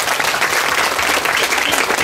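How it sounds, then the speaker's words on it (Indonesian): Steady, dense applause from a large group of schoolchildren, many hands clapping continuously at a fairly loud level with no voices standing out. "terima kasih banyak tepuk tangan buat Pian."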